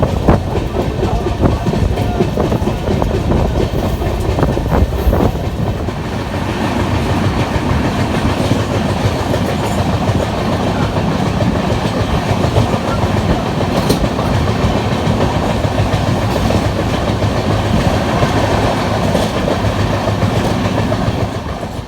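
The Kamrup Express train rolls steadily along the tracks between New Jalpaiguri and New Bongaigaon in India, loud and close, with continuous rumbling and rhythmic wheel clatter throughout.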